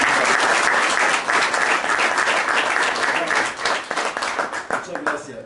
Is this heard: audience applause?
yes